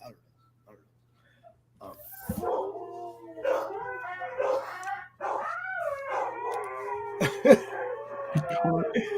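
Several dogs bark, howl and snarl at each other in a noisy scuffle, growing louder and more frantic toward the end, with people talking in the background.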